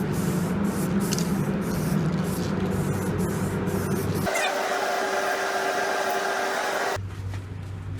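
A spray gun sprays plastic primer with a steady hissing blast at close range, shifting pitch partway through as the airflow changes, then dropping to a lower hum near the end.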